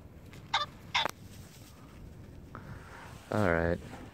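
Outdoors, a rooster tracked by a 13-week-old puppy gives one short, nasal, harmonic call near the end, after a few faint clicks and rustles over quiet background noise.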